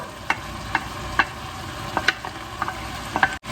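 Browned meat sizzling in a pan with carrots, onions and celery, marked by a series of sharp utensil clinks and scrapes over a steady frying hiss.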